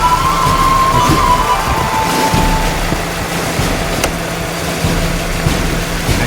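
A newly installed cooling fan on a 2004 Jeep WJ runs on high speed, a steady loud whoosh over the idling engine, with a brief tonal whine fading early on.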